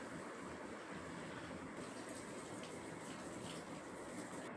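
Peas being washed in water make a faint, continuous swishing and sloshing with no voices.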